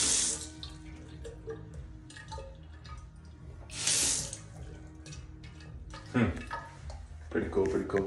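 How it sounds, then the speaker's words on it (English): Water runs from the tap of a Zen-style sink in a luxury Orange County, California home, coming in short hissing bursts with a softer trickle between them while people murmur nearby. "It's like a Zen sink right there."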